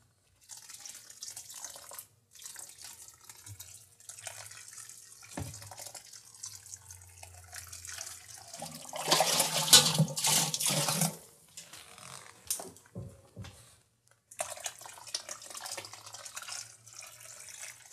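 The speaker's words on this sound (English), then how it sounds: "we'll get the sparge water on this right away" Sparge water pours onto the grain bed of a four fruit ale during brewing, a gentle splashing trickle in several bursts with brief gaps, swelling louder in the middle before trailing off.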